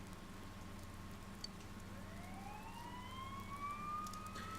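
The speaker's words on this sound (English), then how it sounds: "You hear sirens nearby." Sirens wail nearby in the video game Persona 4 Golden, rising tones sweeping up over a low steady background hum, moderately faint and growing slightly louder toward the end.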